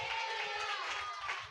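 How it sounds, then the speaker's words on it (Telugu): Congregation clapping hands in a steady rhythmic beat during a church sermon, even and moderately faint. "చప్పట్లు కొట్టి గడిగలు చెప్పండి"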